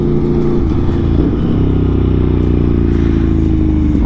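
An Aprilia Tuono Factory motorcycle engine runs loud and close, a dense continuous rumble with a slight rise in pitch partway through and no talking.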